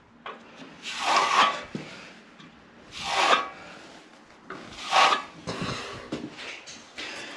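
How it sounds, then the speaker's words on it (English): A plastering trowel pushed into a plaster corner and dragged out, making three or four broad scraping rubs at a steady pace, close and fairly loud, with no talking. "push it right in, tip the trowel back ever so slightly,"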